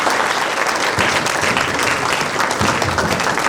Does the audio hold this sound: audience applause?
yes